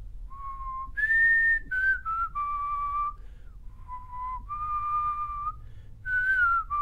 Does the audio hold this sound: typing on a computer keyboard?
no